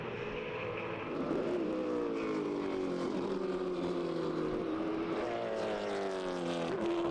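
Several Corvette race cars, including a yellow one, roar past at the SCCA Runoffs Grand Touring race, a steady dense engine drone with shifting pitch as they chase closely through the corners.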